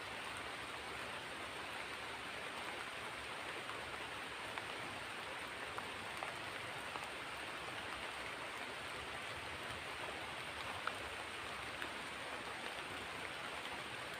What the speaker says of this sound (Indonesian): Wah, hujannya makin gede guys.